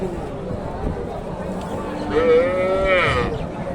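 A local cow lets out a long, drawn-out moo close by at a busy cattle market in Bogura, rising over a murmur of people talking in the background.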